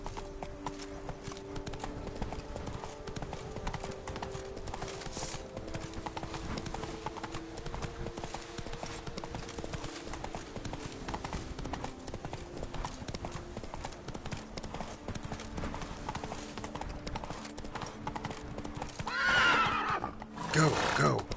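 Roach, a horse in The Witcher 3 video game, gallops with continuous rapid hoofbeats over game ambience and music, ending in a louder whinny near the end.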